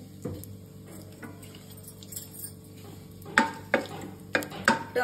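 Cardamom pods and spices splutter in four spoons of hot oil for a Karnataka-style vegetable sagu, with a low background hiss and several sharp pops and clatters bunched toward the end.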